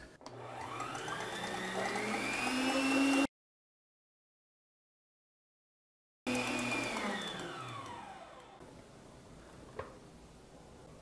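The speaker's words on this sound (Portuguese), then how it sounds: "Agora eu vou ligar de novo a batedeira em velocidade" An electric kitchen mixer runs at maximum speed, whipping egg whites to stiff peaks for a sponge cake: a steady, whining motor drone with shifting pitch, stopping abruptly, then resuming and fading down.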